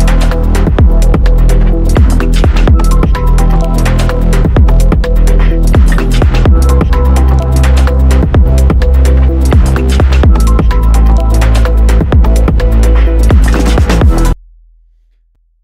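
Electronic track's second drop from a remix, built in Ableton: loud, dense and steady, with rapid kick and snare hits driving under sustained saw-wave synth tones, then cutting to near silence at the end.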